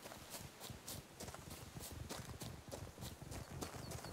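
Horse hooves clop in the video game The Witcher 3: Blood and Wine, a steady, fairly quick rhythm of hoof strikes with no pauses, moderately loud against a dense outdoor ambience.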